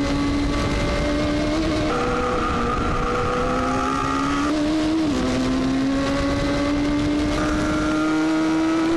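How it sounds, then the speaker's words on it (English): Radical race cars lapping Dubai Autodrome in the Radical Middle East Cup, a loud close engine holding a steady high whine that climbs and drops through gear changes, with another car's tone layered in, no talk. "Caught behind the yellow McLaren, Jawa has nowhere to go but needs to make a move soon."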